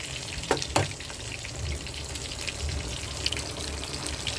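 Mixed vegetables with cabbage sizzle softly in a frying pan, a steady quiet hiss broken by a couple of brief clacks near the start.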